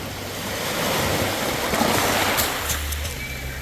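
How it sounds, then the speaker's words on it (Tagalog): Strong sea waves wash steadily onto the shore at Malande Beach in Zamboanga City, a continuous loud roar of surf mixed with gusty wind, with no clear voices. "malakas yung yung hampas ng alon dito lang sa Dalampasigan"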